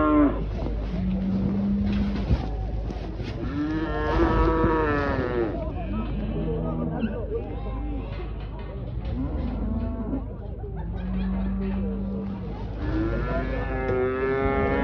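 Cattle mooing at a farm animal show: several drawn-out, tonal moos, some close and loud, others further off, over a steady background murmur with scattered voices.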